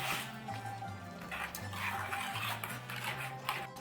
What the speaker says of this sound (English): I'm just going to keep stirring until the butter melts.